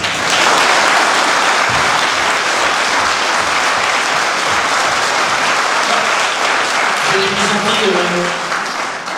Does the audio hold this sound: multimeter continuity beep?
no